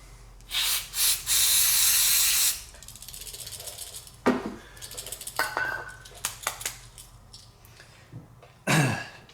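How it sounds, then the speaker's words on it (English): QD electronic contact cleaner sprayed onto the forward and reverse gear switch contacts of a Peg Perego Gator ride-on, two long hissing bursts near the start, then scattered clicks and handling rattles of the switch parts. "We're going to use this QD electronic cleaner, and we're going to spray that on the contacts"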